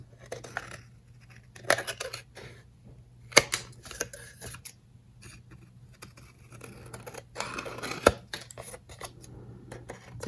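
Scissors snip through paper at the corners of a pink Christmas album-in-a-box, a few short crisp cuts spread out and close by, with a steady low hum underneath.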